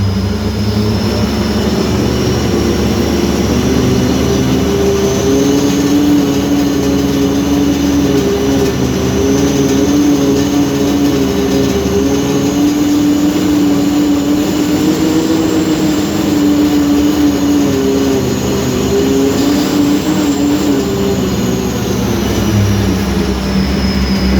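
A logging yarder engine drones loudly and steadily at close range, its pitch drifting slightly up and down as the throttle is worked in small movements to hold the RPMs in a working range.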